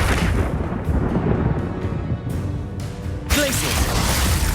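Expulso explosion spell cast in the video game Hogwarts Legacy, a loud booming blast with rumbling, thunder-like crackle, then a second sharp burst near the end, dense and close amid spell effects.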